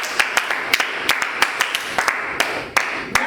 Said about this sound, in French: On s'applaudit très fort